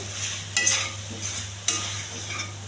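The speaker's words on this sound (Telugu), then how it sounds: "ఈ కాకరకాయల వాటర్ పూర్తిగా ఎగిరిపోయేంత వరకు కలపాలండి" Bitter gourd stir-fried in a pan until its water cooks off, a continuous close sizzle with two distinct scraping stirs of the spatula.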